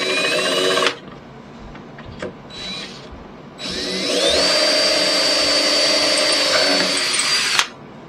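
Power drill boring into a vintage wooden nightstand, loud whirring bursts near the start, then a long steady drilling run with rising pitch that stops abruptly, with short quieter tool sounds between.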